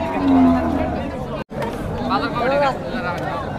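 Cattle lowing at a busy livestock market in Hazratpur before Eid al-Adha, a deep moo rising over constant crowd chatter, with people talking nearby throughout.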